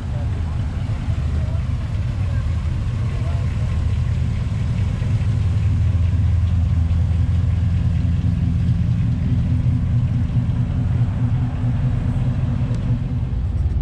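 Hot rods and gasser-style custom cars cruise a car show strip, a steady, loud low engine rumble rolling past continuously with people talking over it.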